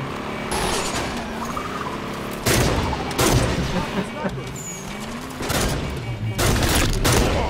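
Video game gunfire, bursts of rapid shots in several volleys over steady background noise, with people talking over the action.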